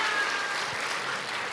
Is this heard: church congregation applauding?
yes